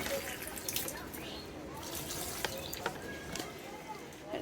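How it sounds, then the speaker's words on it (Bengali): Water poured onto potted plants in a balcony garden, a soft continuous splashing and trickling with a few light knocks against pots, fairly faint. "তো এখন লাগানো সব গাছে জল দিয়ে দিচ্ছি।"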